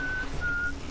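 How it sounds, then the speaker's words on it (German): Inside a creepy clinic in the video game BioShock, someone whistles two sustained, steady notes with a short gap between them, thin and moderately faint over a droning ambient background. "Wer zum Teufel pfeift denn da die ganze Zeit?"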